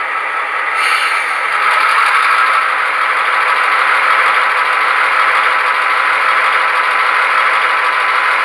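An HO scale Athearn Genesis GP15-1 model locomotive with Tsunami 2 DCC sound, at its slowest speed step, gives off a steady diesel idle drone with a light rattle throughout and no talk.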